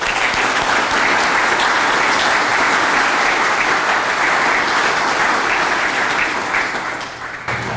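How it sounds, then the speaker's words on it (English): Sustained applause from a large audience at a Marine Corps change of command ceremony, loud and dense clapping throughout, tapering slightly at the end. "and a big round of applause"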